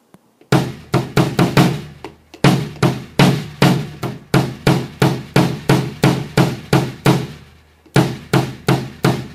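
Bass drum with an Emad head, kicks played in rapid bursts and steady runs, punchy and thudding, close and loud with brief pauses between phrases.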